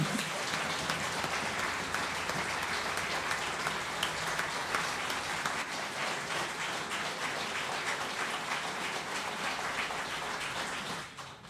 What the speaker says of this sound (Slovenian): predlagam, da jo pozdravimo z velikim in glasnim aplavzom